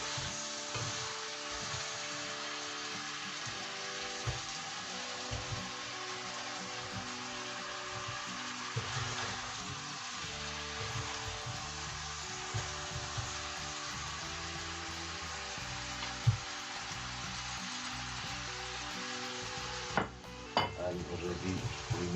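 Potatoes and beef are stirred together in a frying pan, a low steady sizzle under repeated scraping and clinking of a utensil against the pan, with a few louder knocks near the end.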